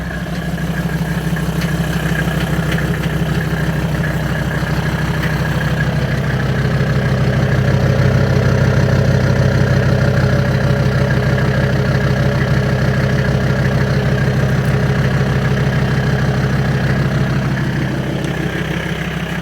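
A Mercedes turbo diesel engine swapped into a 1994 Toyota 4Runner idles steadily and close by, a continuous low rumble with a faint rise in the middle and no talking.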